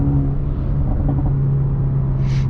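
Mercedes-AMG A35 engine and exhaust roaring loudly and steadily up close, a deep sustained drone with rumbling low tones throughout, no talking.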